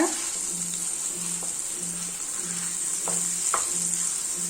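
Sweet potato halwa cooking in a hot pan, a constant hiss and bubbling sizzle with soft regular low pulses and a few faint scraping strokes of stirring.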